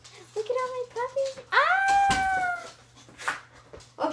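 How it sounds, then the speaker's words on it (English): Dogs being let into a house give a loud, rising whine or howl that stretches over a couple of seconds, surrounded by people talking nearby. "Look at all my puppies."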